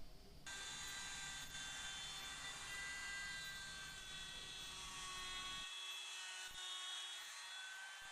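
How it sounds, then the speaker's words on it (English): A router fitted with a slightly angled bit trims laminate from the inside of a flange ring, giving a continuous high-pitched whine with a dense grinding edge that holds steady, then drops its low rumble near the end. "Use a slight angled router bit to route the laminate from the inside of the ring."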